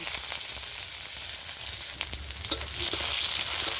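Chopped onion hits a hot pan of oil already fragrant with bay leaf and five-spice tempering, giving a bright continuous sizzle broken by a few sharp crackles and stirring scrapes, with no talking.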